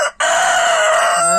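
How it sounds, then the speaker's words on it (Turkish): A black mottled Leghorn rooster crows once, loud and close, a drawn-out strained cock-a-doodle-doo that follows a brief cut-off note and trails off at the end. "Ha bu black motlet ligorin horozumuz."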